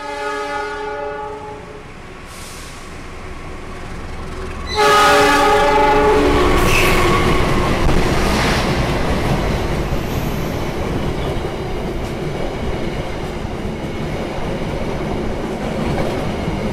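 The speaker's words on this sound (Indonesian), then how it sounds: "Yang akan melintas adalah kereta Turangga dari Bandung tujuan Surabaya Gubeng." The Turangga passenger train from Bandung to Surabaya Gubeng passes close and loud, its horn sounding in long tones before the heavy roar and rolling clatter of wheels and cars take over and continue.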